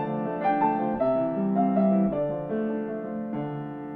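A sustained piano chord with a low bass note and its octave above, struck in a few successive voicings that ring out smoothly with no talking.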